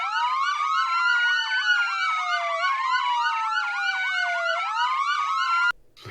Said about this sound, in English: I'm gonna put some sirens on